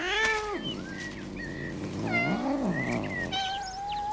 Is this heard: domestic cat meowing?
yes